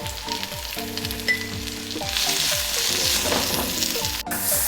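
Sliced onions with green chilies and salt sizzle steadily in a hot pan, a loud, continuous frying hiss with stirring and occasional utensil scrapes over background tones, no talking.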